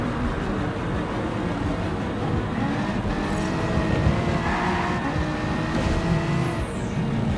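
Race car engines drone continuously in the Gran Turismo Sport video game, with a car passing by and some tire noise under a steady mid-level mix.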